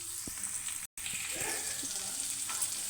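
Carrot pieces frying in a pan for carrot curry, a quiet continuous sizzle with a few faint taps from stirring, close but low in level, with a brief dropout in the middle.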